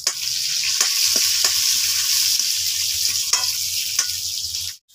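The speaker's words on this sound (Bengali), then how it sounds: "রসুনটাকে একটু তেলে ভালোভাবে নেড়ে নেব" Chopped garlic and whole cumin fry in oil with a loud, steady sizzle, stirred with regular spoon scrapes and taps before the sound cuts off abruptly at the end.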